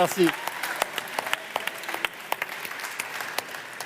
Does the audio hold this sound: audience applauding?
yes